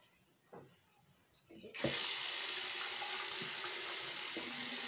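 A few soft knocks and handling sounds, then a tap turns on and warm water runs steadily with a loud hissing splash, continuing to the end.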